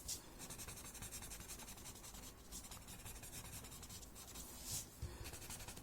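Graphite pencil shading on paper, filling small inner spaces of a tangle drawing, a soft steady scratchy rubbing that runs continuously with slight swells, close and quiet.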